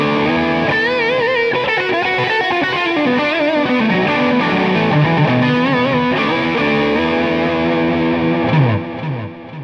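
Steinberger electric guitar played through distortion with the tone rolled off very slightly, a sustained chordal and melodic passage with a slightly softened, rounded-off treble, steady and loud throughout.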